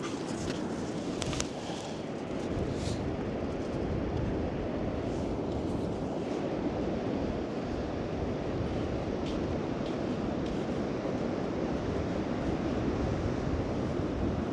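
Atlantic Ocean waves breaking on Benone Beach, a steady broadband roar of surf mixed with gusting wind buffeting the microphone, continuous and fairly loud throughout.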